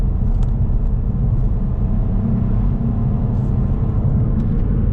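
A car accelerating up to the national speed limit after a roundabout near Winchester, heard from inside as a steady low engine and road rumble that holds loud and even throughout.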